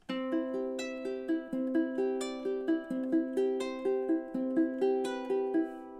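A plucked ukulele picks out a bright melody, notes ringing in a steady rhythmic pattern with clear individual attacks, close and alone without voices.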